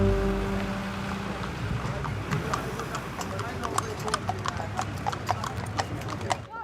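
Horses' hooves clip-clop steadily at Appleby Horse Fair in Cumbria, a busy run of sharp close hoof strikes rising over crowd noise with voices in the background.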